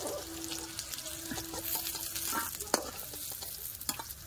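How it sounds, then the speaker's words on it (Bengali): Oil sizzles steadily in a hot pan as pointed gourd fries, a continuous crackling hiss broken by a few sharp clicks of a utensil. No one speaks. "পটল ভাজা হয়ে গেছে, পটল ভাজা তুলে দেখুন, লাল করে খুব সুন্দর করে ভেজে দিয়েছি"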